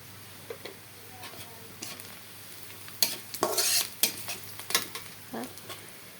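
Onions fried brown in a pan with cumin seeds added for a fish curry, giving a steady low sizzle broken by sharper bursts of stirring and spatula scrapes in the middle, near and moderately loud, with no talking.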